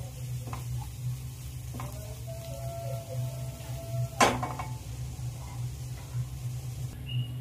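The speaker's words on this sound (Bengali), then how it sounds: "আমি পেঁয়াজের সাথে আদা রসুন বাটাটা একটু ভেজে নেব" Chopped onion with ginger-garlic paste frying in a pan for rice pulao, a steady low sizzle with occasional light scrapes and one sharp utensil knock against the pan.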